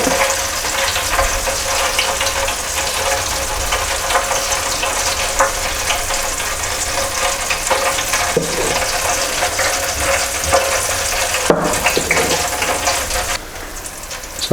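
Battered onion rings frying in hot oil make a loud, dense, rain-like bubbling hiss that runs continuously and close, with occasional small clicks and a slight drop near the end, no talking.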